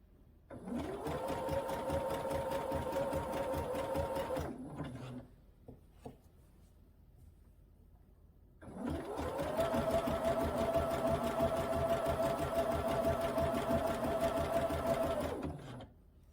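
A sewing machine stitches free-motion quilting through batting in two long runs. Each run is a fast, steady mechanical whir that spins up, holds for several seconds and stops, with a quiet pause between the runs.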